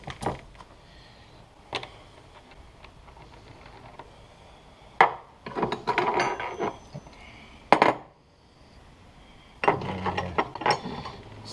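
Ratchet tightening nylon locking nuts on Ohlins Road & Track coilovers on a 2018 Subaru BRZ tS: a few isolated clicks, then several short, close bursts of rapid ratcheting with pauses between.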